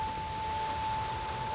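Light drizzling rain in The Witcher 3: Wild Hunt, a steady soft hiss of fine drops with no voices over it, alongside a faint constant tone.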